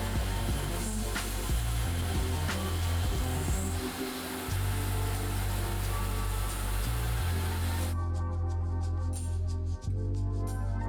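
Milling machine cutting off tabs with a 1/8 inch end mill: a steady, loud motor whir and hiss with low hum running throughout, shifting slightly in tone near the end.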